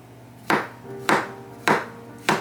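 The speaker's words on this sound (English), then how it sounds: "And I just do a pretty rough chop on these." A kitchen knife roughly chops rinsed mushrooms on a board, four evenly spaced, crisp thuds close by against a quiet background.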